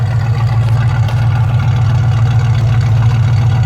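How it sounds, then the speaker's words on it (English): A 1966 Ford Mustang coupe idles from behind with a steady, deep exhaust burble, moderately loud and close, holding an even low rumble throughout with no talking. "Just want to let you hear the exhaust note on it"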